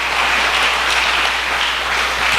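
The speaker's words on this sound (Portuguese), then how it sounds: "Aplauda Jesus." A church congregation applauds, a steady wash of clapping from many people that holds loud and even throughout, with a low hum underneath.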